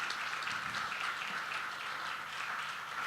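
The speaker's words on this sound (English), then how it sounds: "Keep clapping, keep clapping. Keep putting those hands together for Professor Fatisi." An audience at a health systems scientific roundtable claps steadily for a professor after a lecture, a continuous dense wash of applause without talk.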